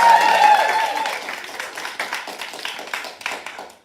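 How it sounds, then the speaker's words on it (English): A theatre audience at a live queer storytelling performance applauds an on-stage assistant. The clapping starts full under a brief voice and then thins into scattered, fading individual claps. "Some applause for my assistant, please."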